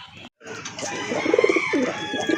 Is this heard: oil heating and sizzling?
no